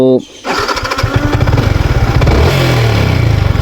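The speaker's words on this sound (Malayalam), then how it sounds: "വണ്ടി എൻജിൻ ഓണാണ് ഓൾറെഡി" A motorcycle engine catches after a brief start-up and settles into a loud, close, rapid idle with a rising rev near the end, while someone talks over it.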